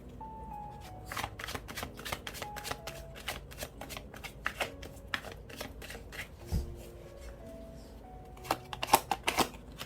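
Tarot cards being shuffled, a rapid series of crisp riffling snaps and flicks at close range with short pauses between bursts, and no voices.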